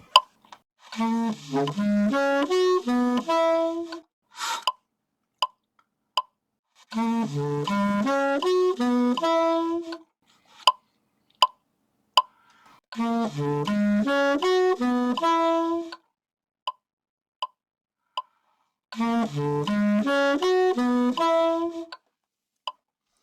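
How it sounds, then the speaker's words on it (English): A saxophone plays three quick legato runs of separately tongued notes, each run followed by a few short, sparse detached notes, with no talking. "If I do a light legato tongue on every note, it might sound like this."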